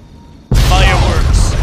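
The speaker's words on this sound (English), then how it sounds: "Does this car blow up?" A car explodes in the video game Fallout 3 with a sudden loud boom that rolls into a sustained roaring, crackling blast and a later burst of debris, heard up close with no talking.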